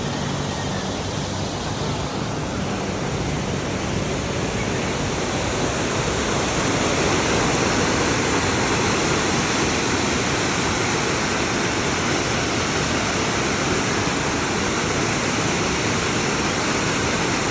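Strong floodwater rushes during a typhoon on the way to Guadalupe, a loud continuous broadband roar like a waterfall, steady and close throughout with no voices.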